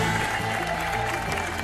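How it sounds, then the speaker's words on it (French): Studio audience applause greets champion Sylvain on the French TV quiz show "Trouvez l'intrus", a steady wash of clapping heard over sustained low musical tones throughout. "On va déjà accueillir sous vos applaudissements notre champion Sylvain."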